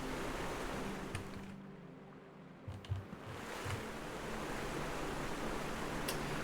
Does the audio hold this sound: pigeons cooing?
no